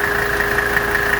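A 1983 Mercedes 300D diesel engine idles while warming up, a close, steady clattering hum with a faint knocking pulse and constant even loudness.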